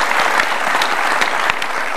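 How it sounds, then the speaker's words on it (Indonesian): Loud, close applause from a studio audience on an Indonesian talk show, dense clapping with a few sharper claps standing out, continuous throughout. "Kasih tepuk tangan Ibu Megawati Soekarno Putri."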